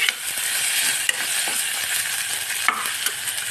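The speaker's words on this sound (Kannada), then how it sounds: "ಈ ಟೊಮೆಟೊನ ಪೂರ್ತಿ ಮೆತ್ತಗಾಗುವಂಗೆ ಫ್ರೈ ಮಾಡಿರಿ" Chopped tomatoes fry in a pan, a bright, steady sizzle close up with occasional stirring clicks and scrapes.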